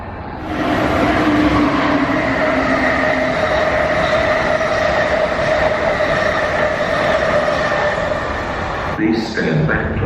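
A multi-level commuter train rumbles steadily through a station on a long commuter rail trip, a loud continuous rolling drone with a station announcement voice over it, then slowing and fading near the end.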